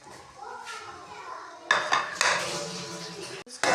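Green garlic and onion are stirred in ghee in a metal pot, with a spoon scraping and clattering against the sides in close, uneven bursts that grow louder after a quiet start.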